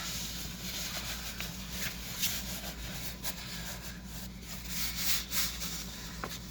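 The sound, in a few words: adjusting a seat cover on a Toyota Tundra headrest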